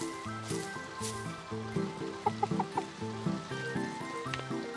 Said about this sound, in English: Where's the other chicken?